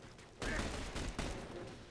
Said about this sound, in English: Firing on your target!